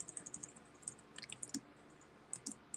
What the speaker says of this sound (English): I can hear my typing like in stereo.